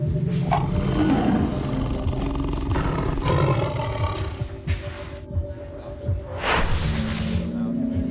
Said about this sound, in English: All of a sudden, there was a tiger in there.